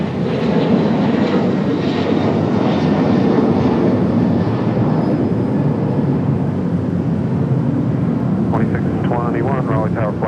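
An airplane roars down runway 23 right at night at Raleigh-Durham International airport, a loud, sustained engine rumble with voices heard over it.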